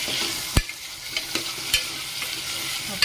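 Baby potatoes being stirred into fried onions in a pan, a low steady sizzle under a few sharp scraping and stirring knocks, close and fairly quiet, with no talk.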